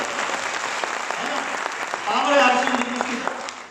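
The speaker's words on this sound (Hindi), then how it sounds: "ताली जोरदार बजाओ, मौका है सर" Loud, dense applause from the crowd at an RCM marketing meeting, continuous clapping that swells slightly midway while someone talks over it.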